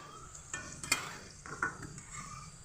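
Lentil fritters fry gently in a pan over a low flame. A faint, quiet sizzle is broken by a few sharp scrapes and clinks as they are turned.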